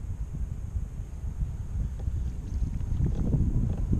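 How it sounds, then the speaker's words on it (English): Wind blowing over a shallow pond near Houston, Texas, buffeting the microphone with a steady low rumble that slowly builds in strength, with faint water and boat noises underneath and no talking. "Got a pretty good wind here today."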